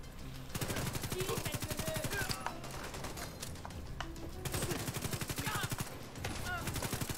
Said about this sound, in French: ils s'installent leur propre petite mitrailleuse à la Tachenka